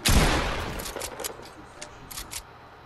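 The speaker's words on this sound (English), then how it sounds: "What are you shooting at?" Rapid bursts of video game gunfire in a player-versus-player match, a loud opening volley followed by scattered shots and crackling echoes, with a voice briefly talking underneath.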